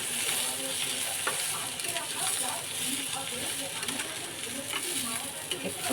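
Food for a quick home-style khichuri frying in a pan, with a steady crackling sizzle throughout and scraping, clinking stir strokes against the pan. A faint voice may sit in the background.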